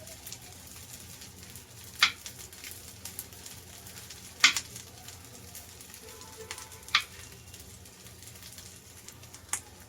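Chicken cutlets shallow-frying in a little oil in a pan give a faint, steady sizzle broken by a few sharp pops and crackles.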